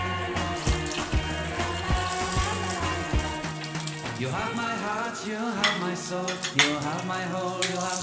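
Cashews and raisins fry in a pan for Onam dates and badam payasam, with a constant close sizzle broken by repeated tapping and scraping from stirring.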